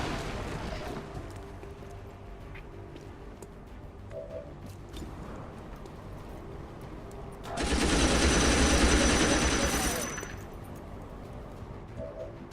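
Gunfire in the Xcom 2 video game, a Long War 40k mod: faint game ambience with scattered small sounds, then a loud sustained burst of roaring fire lasting about two and a half seconds before it fades.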